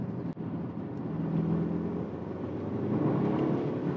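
A Mercedes-AMG GT 63 S 4MATIC+ with 900 Nm of torque accelerates on a race circuit, its engine a steady, full-bodied drone that slowly swells in strength, heard from inside the car.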